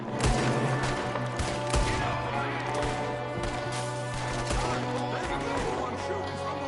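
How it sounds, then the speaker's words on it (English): Rapid bursts of gunfire crack out from a window during a Red Dead Redemption 2 shootout. The shots are dense and repeated, layered over steady background game sound and voices. "One shooting from the window."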